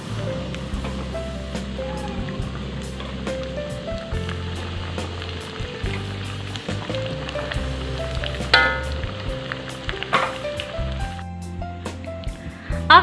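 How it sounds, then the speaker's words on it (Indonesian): Battered tilapia fish frying in hot oil, a steady dense sizzle and crackle that runs throughout with occasional louder pops and spatters near the end. "Untuk teman-teman bisa goreng semua ikannya sampai selesai ya."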